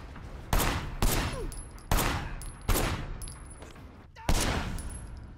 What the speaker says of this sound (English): Trying to shoot that explosive barrel.